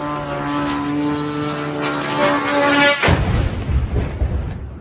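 A Russian drone's engine drones with a steady buzzing tone overhead in Sumy, followed by a sudden louder rumbling burst.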